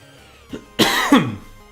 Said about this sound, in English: so I'm wondering if that's making me cough